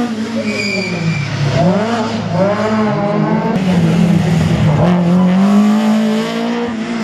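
A Citroën Saxo race car charges through a slalom course, its engine loud and near, revving hard with rising and falling pitch through gear changes and bends.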